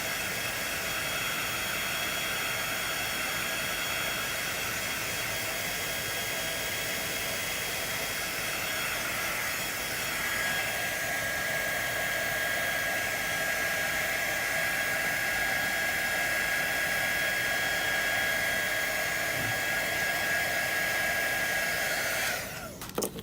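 Hair dryer blowing steadily to dry paint on a blueberry craft piece, a loud, close, continuous whooshing roar that holds without pause and then cuts off at the end.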